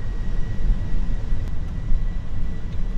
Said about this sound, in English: You ask, I'm going to take off.